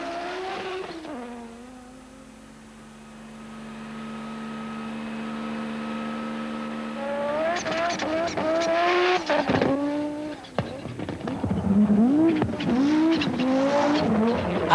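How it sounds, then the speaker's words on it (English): An Audi Quattro race car driving hard up Pikes Peak, engine revving up and down through gears with tonal whine, rising in intensity, mixed with crowd or commentary voices. "He drives an immaculate race in a perfectly prepared Audi Quattro"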